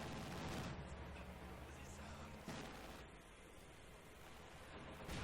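Quad machine gun firing in Company of Heroes 2, a dense, continuous rattle of automatic gunfire amid battle noise, steady throughout with a sharper burst midway, while a voice talks over it.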